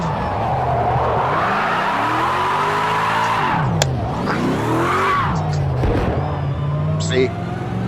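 Chelsea DeNofa's RTR Formula Drift Ford Mustang sliding through a corner in Project Cars 2, engine revving in sweeping pitch swings with long tire squeal, someone talking over it.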